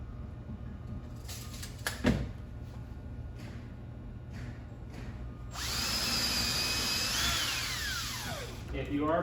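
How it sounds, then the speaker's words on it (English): A power drill whirs steadily for several seconds, pre-drilling a cedar picnic table, after a few earlier knocks and handling sounds, with faint talk in the background. "If you are pre-drilling them, just make sure you pre-drill only through the table cleat"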